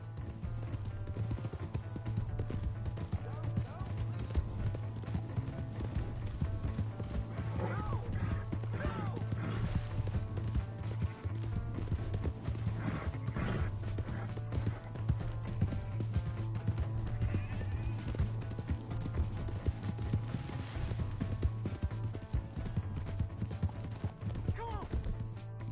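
Horse hooves clip-clop steadily through a video game scene, with neighing and whinnying breaking in over a dense, continuous game soundtrack and ambience for the whole stretch, while voices speak at times.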